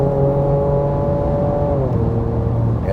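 Car engine at full throttle on a track's back straight, a loud steady droning roar that holds then drops slightly in pitch as it shifts, continuous throughout.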